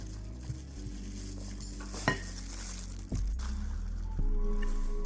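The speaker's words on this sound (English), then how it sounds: "So we have walnuts. Get them all stirred around." A spoon stirring walnuts through a vanilla ice cream mixture in a bowl, with soft scraping and clinking against the dish, a few knocks, and a steady wet churning noise close by.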